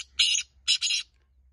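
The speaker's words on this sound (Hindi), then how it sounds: "मंगल के दिन जंगली तितर भी बोल रहा है।" A wild partridge (teetar) gives two harsh, raspy calls close by, the second a quick double note, with quiet low hum between and after.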